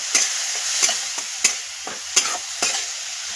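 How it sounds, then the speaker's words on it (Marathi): Spices and yogurt sautéing in hot oil give a constant sizzle, broken by regular scraping strokes of a spoon against the pan about every 0.7 seconds, close and alone. "हे पण तेलामध्ये व्यवस्थित परतून घेणार"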